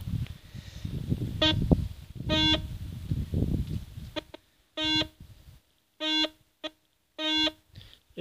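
A Solfernus v2.6 or Garrett Euro Ace metal detector beeps during a ground test, first under rustling noise and then as a series of short, clean tones, about five or six in an uneven rhythm.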